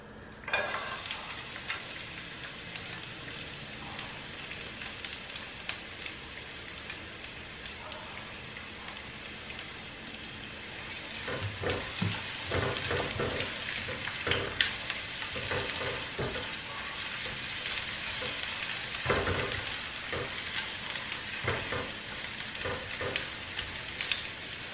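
Onion and garlic frying in a pan, a steady crackling sizzle that grows louder and busier midway, with occasional stirring clatter and no talk.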